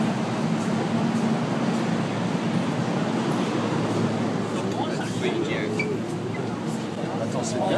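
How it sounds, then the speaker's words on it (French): Steady dense rumble inside a Shanghai metro train, a constant low hum of motors and air handling with faint murmuring voices and occasional higher clatter, loud and continuous throughout. "Bienvenue au métro de Shanghai"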